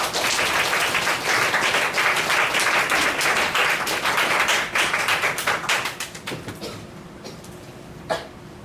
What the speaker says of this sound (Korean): 목사님 박수로 환영하겠습니다.